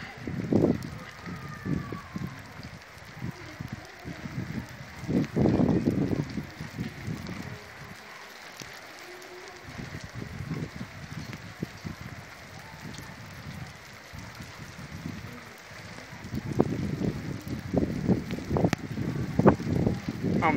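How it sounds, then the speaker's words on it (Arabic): Rain falls outdoors in Goulmima, a steady patter with irregular louder splashes and gusts over about twenty seconds, with faint background noise and no clear voices. "أمطار الخير"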